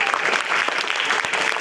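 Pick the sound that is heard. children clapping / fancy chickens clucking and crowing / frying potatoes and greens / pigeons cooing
children clapping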